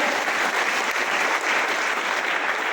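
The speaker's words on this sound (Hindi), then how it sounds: "तो ताली बनती है नए लोगों के ऊपर, जोरदार ताली" Loud, dense applause from an audience in a memorial hall, welcoming new attendees, steady and full throughout with no talk over it.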